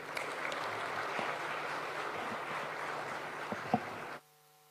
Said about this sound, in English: welcome His Excellency the President to give us his vision with a round of applause